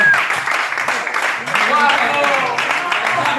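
An audience applauds a live show's sound technician: steady, moderately loud clapping, with voices talking and calling out over it throughout.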